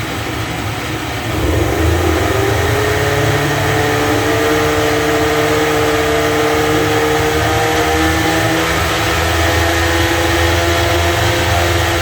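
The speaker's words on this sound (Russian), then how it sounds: "Даем средние обороты." An Evinrude 25 outboard motor runs steadily at medium revs after idling, a loud, continuous engine drone that rises slightly and then holds throughout, with no talking.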